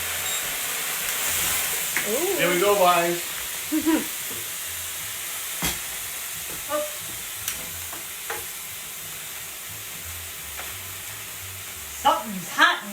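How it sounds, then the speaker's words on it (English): Shrimp sizzle in a hot pan as tequila is poured in, a steady frying hiss with bursts of stirring under scattered talk and exclamations. "Okay, tequila goes in the pan."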